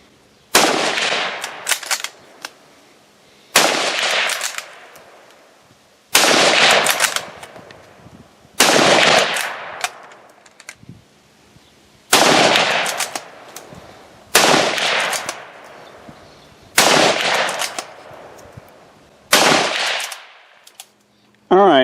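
Eight sharp rifle shots from a Mossberg MVP Patrol firing Federal 55 grain bulk ammunition at a 100-yard range, evenly spaced about every two and a half seconds, loud and close, each with a short decaying tail.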